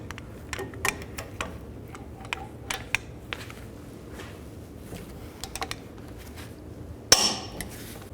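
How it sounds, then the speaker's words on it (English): Torque wrench tightening caliper bracket bolts on a 1999-07 Chevy Silverado 2500 rear brake: a series of faint, sharp metallic clicks and taps at irregular intervals, ending with a louder clack. "Tighten these caliper bracket bolts to 148 foot-pounds."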